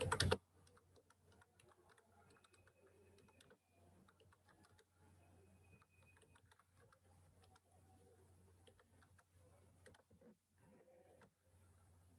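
Fast, continuous typing on a computer keyboard, with soft close clicks in an uneven stream, a couple of brief pauses, and a quiet electrical hum beneath.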